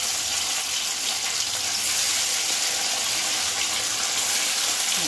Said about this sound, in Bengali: এইভাবে প্রতিটা মাছ হালকা করে ভেজে নেব।